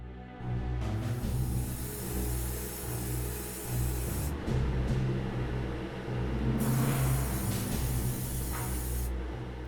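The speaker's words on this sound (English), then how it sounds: "I've chosen to prime all parts of the bike with Mechanicus Standard Grey" Aerosol spray can priming the parts of a miniature speeder bike in Mechanicus Standard Grey, a loud, close, continuous hiss in long passes with brief dips between them.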